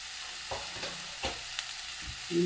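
Spice masala of turmeric and chilli powder sautéing for a chana curry, a soft steady sizzle broken by a few scraping stirs of the pan, with no voices.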